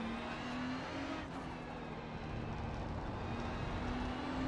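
A Ferrari 296 GT3 race car at Interlagos in the iRacing sim holds a steady, moderately loud engine drone with a sustained tonal whine, on its own with no talk.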